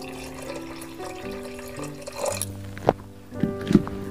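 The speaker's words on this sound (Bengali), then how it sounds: "এবার আমরা জল দিয়ে দেব।" Water splashes and pours into a pot of mutton curry with potatoes in a home kitchen: a soft background hiss, then a few louder gushes and splashes toward the end, close by, with no talking.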